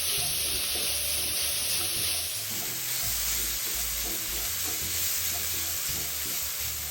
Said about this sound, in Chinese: 将食材与调味料一起拌炒均匀